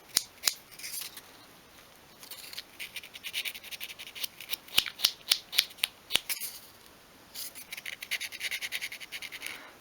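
Sandpaper rubs along the edges of a small wooden 1/12 scale single bed piece, giving brisk scratchy strokes in bursts, some quick and clustered, others steadier, close and fairly quiet with no talk.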